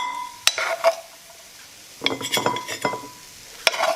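Egg fried rice is dished up from a pan, with metal spoon scrapes, clinks and stirring against the cookware in close, bursty clusters separated by brief pauses.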